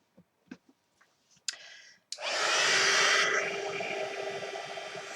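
A heat tool blows steadily and loudly over pink embossing powder, a broad rushing whoosh running several seconds after a few soft clicks and brief handling noises, easing slightly toward the end.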